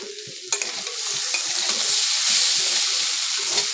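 Onion and chili sizzle in a pan with cumin powder, a sharp clack of a utensil near the start, then a steady loud frying hiss with light stirring scrapes throughout.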